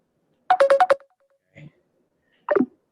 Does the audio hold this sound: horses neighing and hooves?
no